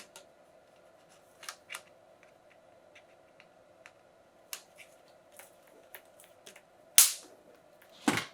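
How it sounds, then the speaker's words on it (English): Scissors snipping wire for a DIY fishing kayak light, giving scattered sharp clicks and snips close up, with a couple of louder cuts near the end, in a quiet setting with no talking. "Snip this here."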